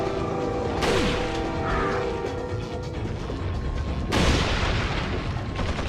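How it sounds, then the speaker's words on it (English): Barrel blown up by gunfire in the video game Resident Evil 4, with two loud crashing booms a few seconds apart over continuous game noise. "I shot his head off in the process of blowing up the barrel"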